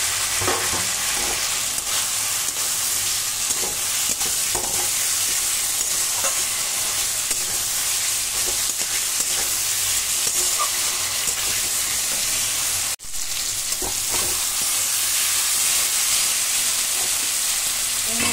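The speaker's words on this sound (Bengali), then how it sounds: "এবার এই অবস্থায় আমি ভেজে রাখা পটলগুলো দিয়ে দেবো" Fried pointed gourd pieces being stirred into a sizzling spice masala in oil for a potato and pointed gourd curry, with a steady close frying hiss and scraping stir strokes, one brief pause near the end.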